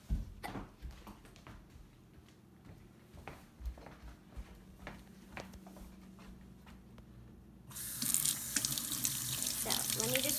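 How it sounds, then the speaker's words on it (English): Hands rub and handle a bar of watermelon soap with soft scattered clicks and rustles, then a tap opens and water gushes loudly into the sink for the last few seconds. "Let me just show me washing my hands with this."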